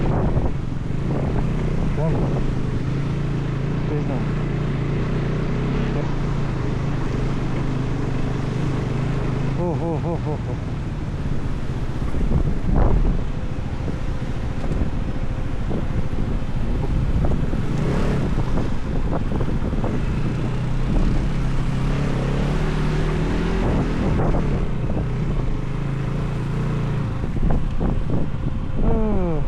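An off-road vehicle drives through a water crossing on a rough mountain road between Koksar and Spiti, with a steady, loud rumble of engine and splashing under wind noise and a brief exclamation.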